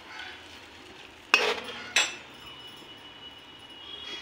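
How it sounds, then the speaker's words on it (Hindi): A lid is set down over a pan of egg curry cooking on the stove, making two sharp metallic clinks about half a second apart over a low background hiss. "अब मैं इसको थोड़ा ढक देती हूँ"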